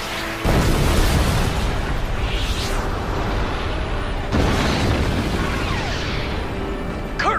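Guided missile explosions in the Star Fox video game: a sustained loud roaring blast fills the scene, swelling again midway, with rushing whooshes layered over the thunderous rumble.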